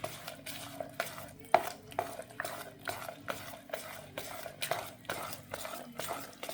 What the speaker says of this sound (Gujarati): આવી રીતે હલાવી લેવાનું છે અને એને આપણે ચાર પાંચ કલાક રહેવા દેવાનું છે